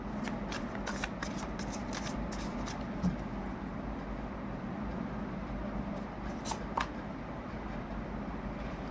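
Tarot cards shuffled over and over in a quiet room, giving a steady papery riffle and flutter with soft slaps and flicks scattered throughout, close and continuous with no voices.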